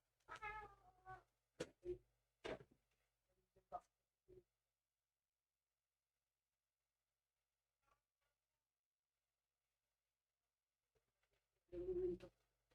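A domestic cat meows close by in a quick series of calls, falls silent for a long stretch, then gives one more loud meow near the end.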